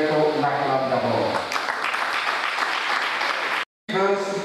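Audience clapping at the official launch of an association's COVID-19 aid project in Togo, a dense round of applause that runs for several seconds, briefly cuts out, then returns.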